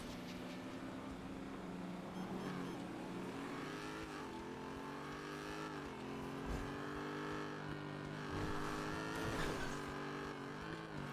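A racing car's engine from a video game, with a Mustang on the course, drones steadily at moderate level, with the revs rising and falling as it accelerates and shifts throughout.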